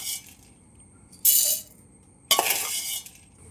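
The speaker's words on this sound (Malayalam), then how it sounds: "നമുക്ക് ഗോതമ്പ് മിക്സിയുടെ ജാറിലോട്ട് ഇട്ട് കൊടുക്കാം." Roasted wheat grains pour into a steel mixer grinder jar in two separate bursts of bright rattling patter, each lasting under a second, close and with no talking.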